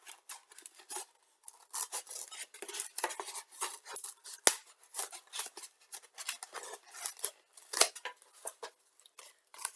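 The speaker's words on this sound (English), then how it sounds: "You just cut along the spot that you want." Scissors snip through a thin polystyrene foam tray, a steady series of close, dry crisp cuts and raspy scrapes in irregular rhythm, with one sharp click partway through and no talking.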